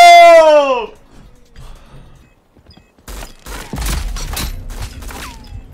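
A burst of gunfire in the video game Rogue Company, sharp cracking shots clustered in a rapid volley after a loud tonal game sound and a quiet pause, close and loud.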